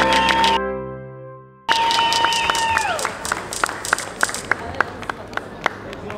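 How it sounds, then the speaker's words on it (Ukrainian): Crowd applause after a bare-knuckle fight, sparse claps rising over background music, then a few distinct claps fading in the room. "Поддержим победителя ще раз. Аплодисменты!"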